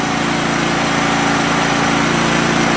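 A Champion 100520 generator engine running on propane at about 3,400 RPM, a steady, loud, continuous engine drone with an even throbbing hum throughout, no voices.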